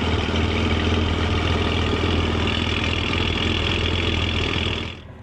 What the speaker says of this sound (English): you're going to hear the injector check valve running at the beginning, making a bit of a popping sound.